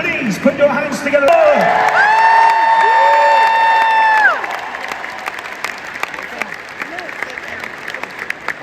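Applause and scattered whoops come from a large arena audience at a musicals concert in Manchester, with a held instrumental tone ringing over the crowd for a couple of seconds before the clapping settles into a thinner patter.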